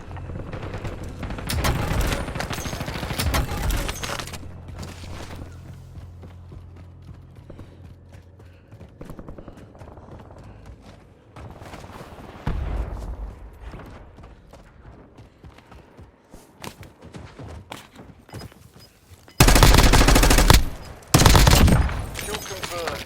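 Gunfire in Call of Duty Warzone, with loud automatic bursts and scattered single shots near the start, quieter shooting through the middle, and two intense close bursts near the end, mixed with brief in-game voice callouts.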